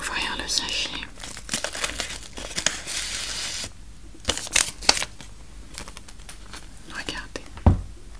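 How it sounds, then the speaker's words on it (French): A tea sachet is opened at close range in an ASMR tea salon setting, with crisp crinkling, tearing and rustling bursts, and soft whispered speech between them. "je vais ouvrir le sachet."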